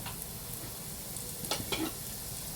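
Garlic, coconut and coriander being sautéed in a pan make a low, faint sizzle, broken by a few short spatula scrapes and clinks near the end, with no speech.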